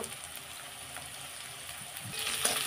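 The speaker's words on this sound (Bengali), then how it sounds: "এবার পেঁয়াজের সাথে আলুটাও একটুখানি ভাজবো" Potato pieces frying with onion in a pan, a soft, steady sizzle heard close and fairly quiet, with faint stirring sounds and a slightly louder crackle near the end.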